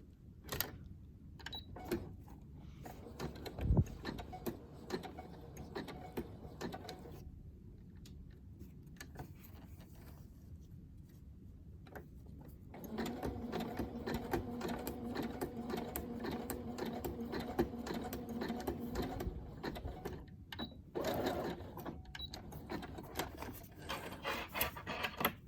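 A sewing machine stitches a fabric seam in quiet bursts, with a steady mechanical whir in the later part and scattered rustling and handling noises around it.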